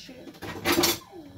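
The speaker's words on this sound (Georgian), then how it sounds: "ჭურჭლის ამოლაგების დროც დადგა ამასობაში" Dishes being unloaded and put away in a home kitchen, with a short clatter of plates and utensils knocking together, close and moderately loud, alongside faint voices.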